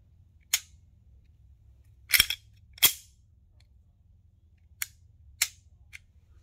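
Sharp dry trigger clicks from a SIG P320 X5 Legion pistol, six isolated snaps spaced irregularly, loud and close against near silence.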